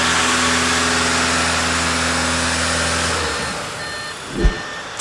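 An Audi engine with a 0AW CVT runs held at steady revs during a transmission oil change, then the tone drops away and a brief thump follows near the end.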